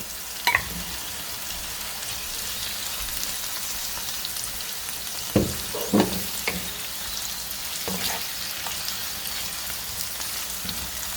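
Fried potatoes added to a pan of flat beans, a continuous sizzle of frying with a few sharp clanks and stirring knocks from the pan scattered through.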